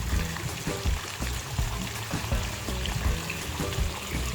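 Water flows continuously nearby, with a steady gurgling trickle and light splashing throughout and no speech.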